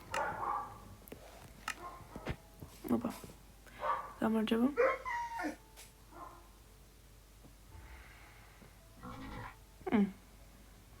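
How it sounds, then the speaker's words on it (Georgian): A Minecraft dog barks and whimpers in short yelps, mixed with people talking nearby throughout. "ძაღლი."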